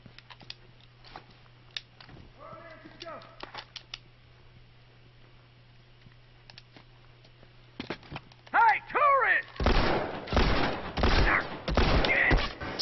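Gunfire in The Last of Us multiplayer rattles out in rapid, loud bursts near the end, preceded by quieter scattered clicks and shots, with a voice speaking over parts of it.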